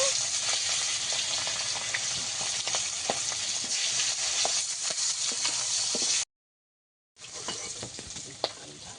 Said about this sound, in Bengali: একইভাবে বাকি মাছগুলো ভেজে নেব।